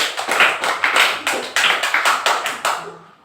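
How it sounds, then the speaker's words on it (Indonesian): A classroom of students claps for a student group, a quick series of sharp bursts in uneven rhythm, fairly close and loud, fading out at the end with no voices. "Tepuk tangan buat kelompok 4."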